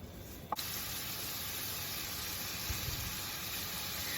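Shrimp dropped into olive oil in a hot skillet set off a steady, close hiss. A brief clunk comes first, then the sizzle runs on without a break and without talk.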